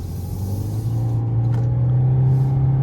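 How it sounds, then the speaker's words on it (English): A 2024 Toyota Corolla Hybrid SE AWD four-cylinder engine drones steadily from inside the cabin while driving, a low, constant hum with a rising note, loud and close with no talking. "the 4-cylinder definitely makes the noise"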